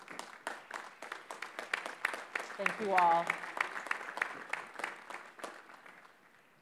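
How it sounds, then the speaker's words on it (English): Scattered, fairly light clapping from a commencement ceremony audience honoring faculty, sounding distant and irregular, with a voice briefly speaking in the middle. "How about one more round of applause for our amazing faculty?"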